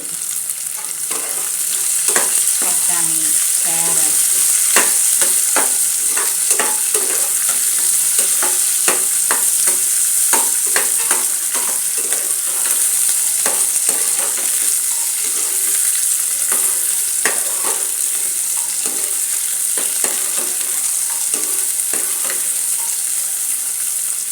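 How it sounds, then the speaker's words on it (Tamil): Mixed vegetables for veg pulao sauté in a hot pan, with a continuous oily sizzle broken by frequent scraping stir strokes in an irregular rhythm, close and fairly loud with no talking. "இது ஒரு ரெண்டு நிமிஷம் நல்லா வதங்கட்டும்"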